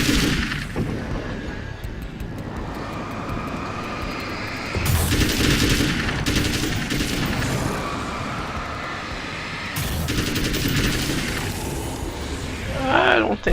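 Gunfire in the video game Alan Wake's American Nightmare crackles in loud, dense bursts with heavy booming shots and roaring background noise, sustained across the stretch.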